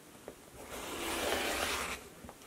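A rotary cutter slices fabric strips against a ruler, giving a smooth rasping swipe that swells and fades over a couple of seconds, close and moderately quiet.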